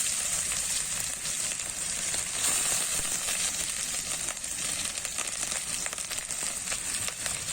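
Onion paste fries in a pan for chicken curry and is stirred now and then, a dense steady sizzle with faint crackling, close and with no voices.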